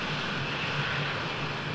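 An F-16's jet engine idles during a ramp start in the Falcon 4 flight simulator, a steady, even roar with a low hum that holds constant throughout, with no voices.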